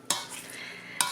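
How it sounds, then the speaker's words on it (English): Wild saskatoon berries are mashed in a pot with a potato masher or pie blender while cooking for jam, with two sharp clanks of the tool against the pot and a soft stirring squish between them. "Let's just keep mashing them up"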